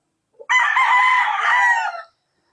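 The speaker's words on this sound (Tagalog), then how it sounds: "Napakagwapo manok din ito." A single loud rooster crow rings out close by in a backyard in San Ildefonso, Bulacan, a drawn-out cock-a-doodle-doo lasting under two seconds, then silence.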